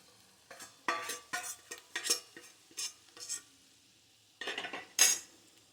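Fried paneer stirred into masala in a pan: a spoon scrapes and clinks against the metal in short irregular strokes, with gaps of quiet between them and a faint sizzle.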